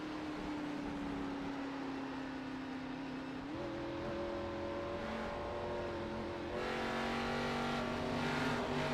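Race car engine droning steadily on the Kansas Speedway oval in a racing video game, a sustained tone that shifts pitch upward midway and grows slightly louder near the end, with no talk over it.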